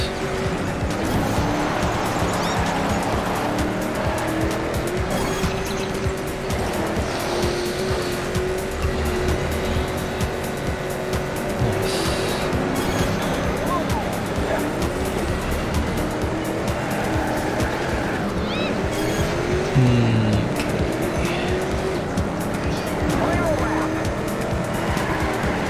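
Race car engine roaring continuously in Trackmania Turbo, a racing video game, with tire squeal and skidding as the car drifts, loud and dense for the whole stretch, with talking mixed in.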